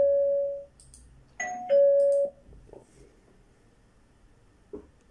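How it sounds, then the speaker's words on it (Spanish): A doorbell rings close by in a stage play, with two clear electronic tones followed by quiet room noise and a few faint knocks. "Mientras Don Quijote empieza a tomarse la sopa, y suena el timbre."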